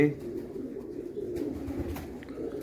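Low, soft pigeon cooing rolls on continuously at close range, mixed with a murmuring voice in the background.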